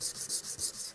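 A hard-backed sanding stick with 220 grit rubs back and forth over a Damascus steel chef's knife blade, lubricated with Simple Green, giving quick rhythmic hissing strokes close up.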